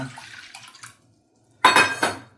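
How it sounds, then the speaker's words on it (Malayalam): Soaked tamarind water is poured into a cooking pan for beetroot rasam, a short splashing pour in two bursts after a quieter stretch of kitchen clatter. "ഇനി ഒരു പാനിലേക്ക് പിന്നെ കുതിർത്ത് വെച്ച പുളിവെള്ളം ഒഴിച്ചു കൊടുക്കുക"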